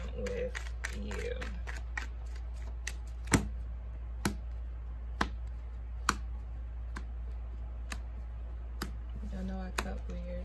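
Tarot cards being shuffled and cut, heard as sharp, sparse card snaps and clicks spaced irregularly over a low steady hum, with faint speech in the background.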